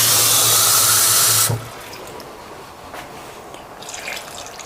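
Water pours steadily into a pot of tightly packed large dolma, a loud continuous gushing splash for about a second and a half that cuts off abruptly, leaving faint kitchen room noise with a few soft clinks.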